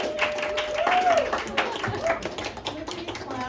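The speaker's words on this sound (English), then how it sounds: "Round of applause" Audience clapping at a comedy show in a Seattle lab venue, lively but brief and mixed with voices and a whoop, a few sharp claps standing out near the end.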